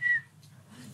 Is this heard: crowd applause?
no